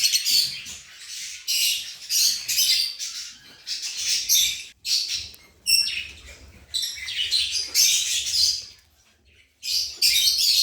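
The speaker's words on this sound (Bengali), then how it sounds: "এগুলো কিন্তু সব আমার বাচ্চা পাখি।" Lovebird chicks kept as pets squawk and chirp in shrill, rapid bursts, close by and loud, with brief pauses between flurries and no talking over them.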